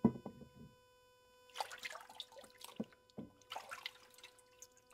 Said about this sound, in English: so that's where I like to rinse it